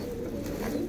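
Pigeons of a Faisalabad pigeon breeder, a flock of about 31 birds, give soft low cooing, a steady murmuring drone throughout with no talk.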